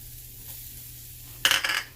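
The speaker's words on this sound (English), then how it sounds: "I'm going to spray the pan again" After a quiet stretch, a short hissing burst of cooking spray onto a pan close by, lasting under half a second before fading.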